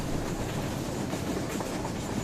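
A model train in the VR game Rolling Line runs with a steady, dense rolling rumble and faint clickety-clack, continuous and fairly close with no talking.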